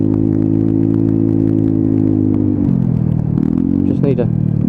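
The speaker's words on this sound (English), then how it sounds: "The engine still sounds sweet as it did first day it come out the factory." A Royal Alloy GP125 scooter engine drones loud and steady while riding, with a low harmonic hum that shifts pitch slightly as speed changes, heard under someone talking.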